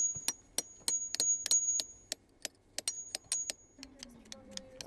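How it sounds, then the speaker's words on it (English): A steel chisel struck by a hammer chips away rock around a dinosaur fossil at an excavation site, a brisk series of sharp metallic taps, some ringing briefly, with a faint voice at the end. "They break rocks surrounding a fossil with a chisel and hammer."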